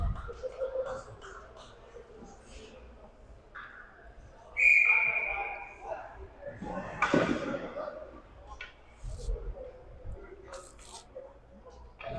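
Referee's whistle at a Raleigh Raptors versus Queen City Royals hockey game, one short sharp blast after a shot into the netting, heard over crowd and arena noise while a commentator talks.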